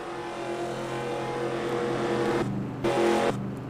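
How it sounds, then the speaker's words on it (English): Race car engines drone and whine in a NASCAR video game, a sustained harmonic roar that shifts pitch near the end as a car surges closer and louder. "We have 30 cars left on the track."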